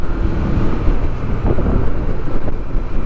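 Strong wind buffets the microphone in a constant, roaring rush with gusty fluctuations, no voices.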